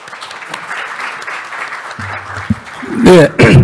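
Audience applause at a policy debate seminar on legislating eco-friendly ESG transport: a few faint claps give way to a loud burst of clapping near the end, split by a brief pause.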